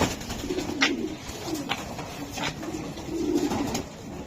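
Racing pigeons of the black racer type coo in low, repeated rolling calls, several overlapping bursts close by over a steady background hum.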